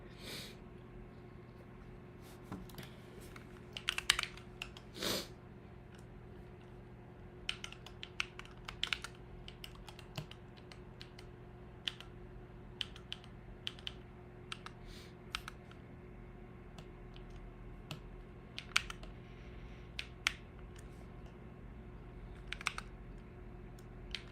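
Keys clack on a computer keyboard during a morning live stream, irregular bursts of quiet taps and sharper clicks spread over a steady low room hum, with no talking.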